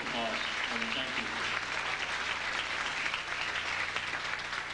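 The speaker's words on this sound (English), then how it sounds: "please give them all a wonderful round of applause" Sustained applause from a church congregation at a recorded local historical society lecture on immigrant response to mill life. It is a steady, dense patter of many hands held at an even level throughout, with a voice briefly heard speaking underneath.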